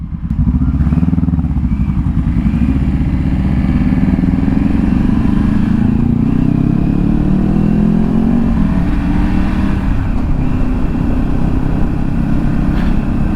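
A Triumph Tiger 900 GT motorcycle being ridden, its engine droning loud and close with a rising pitch as it accelerates, mixed with steady wind rush for several seconds.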